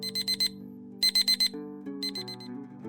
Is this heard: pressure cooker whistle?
no